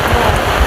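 Steady, loud rain pouring down outdoors in rural Thailand, a continuous dense hiss with no distinct individual drops.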